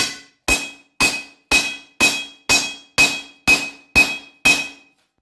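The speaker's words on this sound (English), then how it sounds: "And now I'm gonna give it a couple whacks with the rounding hammer." Ten sharp, evenly spaced rounding hammer blows on mild steel, each a bright metallic ring that fades quickly before the next strike, with no talking.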